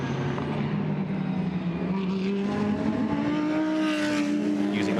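GT race cars circle the Hungaroring in a qualifying race, a loud sustained engine drone whose pitch climbs steadily as a car accelerates, with more engine noise layered in toward the end.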